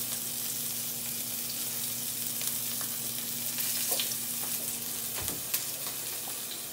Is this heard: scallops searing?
yes